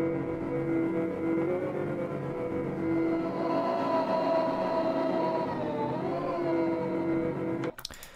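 A heavily processed synth chord from an electronic track, a sustained bright harmonic pad that holds steadily and swells slightly before cutting off abruptly near the end with a brief glitchy burst.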